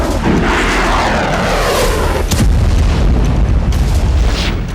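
Loud wartime missile strike explosions, with a deep rolling boom and crackling burst that swell and sustain with heavy low rumble throughout.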